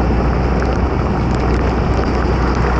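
Heavy monsoon rain pours onto a street in Rishikesh, a dense, continuous hiss and patter that stays loud and even throughout, with no voices.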